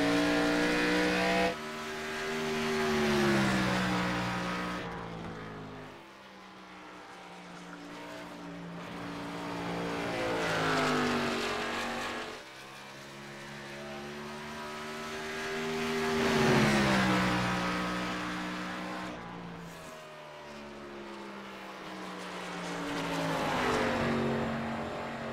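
NASCAR Cup Series car lapping Phoenix in the iRacing simulator, a loud continuous engine drone rising and falling through gear changes and corners across the whole lap, with no talking.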